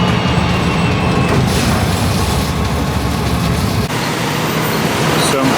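Inside the 651 city bus in Taichung, Taiwan, a loud steady rumble of engine and road noise fills the cabin, with a brief dip partway through as the ride continues.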